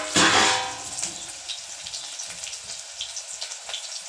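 Mustard seeds and curry leaves sizzling in hot oil, a sharp loud burst of frying at the start that settles into a steady close crackle with small pops.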